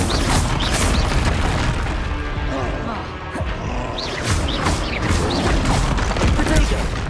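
In Hogwarts Legacy, the Confringo blasting spell explodes with heavy booming bursts. The roar is loud and dense, with repeated blasts piling into a continuous din of combat noise.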